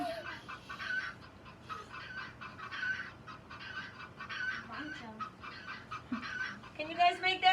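Hens cluck in a rapid, repeated bok-bok pattern with sharper squawks near the end, steady and fairly close, and a person speaks quietly alongside.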